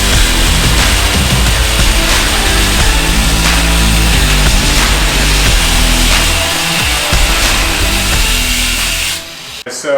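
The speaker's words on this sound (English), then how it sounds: "So we're going to work on getting it cut and bent" Steel skid plate for a custom prerunner bumper on a 2018 Toyota Tacoma being cut with a power tool, a loud continuous grinding whine that holds steady for about nine seconds before dropping away at the end.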